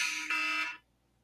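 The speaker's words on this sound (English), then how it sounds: "my alarm to take out the trash" A phone alarm set as a reminder to take out the trash sounds a loud electronic buzzing tone that cuts off abruptly after under a second, leaving silence.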